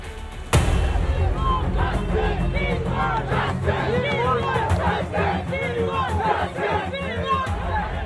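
A large street protest crowd chants a justice slogan in unison, loud and continuous, with shouting voices layered over a dense roar of people after an abrupt start.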